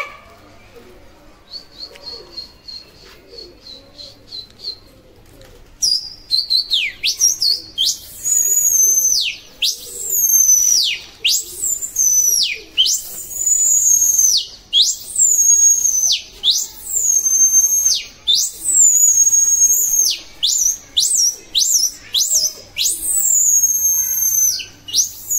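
Pet pigeons, Gola show pigeons, sound off in repeated loud, sweeping whistling calls that rise and fall in a fast rhythm after a brief high chirping start, fairly close.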